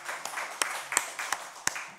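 Scattered hand claps from a church congregation during a Sunday service, sparse and uneven, with a murmur of voices underneath.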